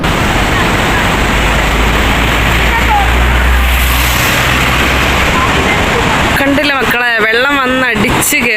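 Water rushes through Bhoothathankettu dam in a loud, unbroken roar close by, with a voice cutting in briefly near the end.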